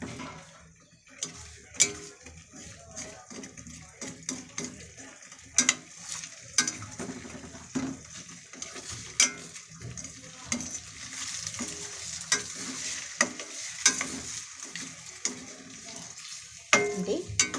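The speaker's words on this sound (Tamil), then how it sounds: "இப்படி கிண்டி விட்டுக்கிட போகிறோம். நல்லாவே பொரிஞ்சிருச்சு முட்டை" Egg frying in a pan for egg rice, seasoned with pepper powder, while a utensil stirs and scrapes it, giving repeated clicks and clatters over a steady soft sizzle with small pauses.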